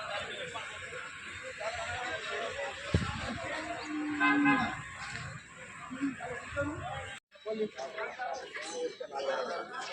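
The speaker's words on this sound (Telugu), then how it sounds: "ఇది జెర్సీ ఆవు అండి" Cows, including a Jersey cow, lowing at a buffalo and cattle market in Kondamadugu, with a clear moo in the middle amid steady crowd chatter and nearby voices.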